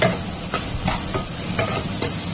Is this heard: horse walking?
no